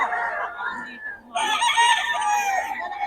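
Rooster crowing at a rural yard in Bocaue, two close, loud crow calls, the second longer and brighter, with no talk over them.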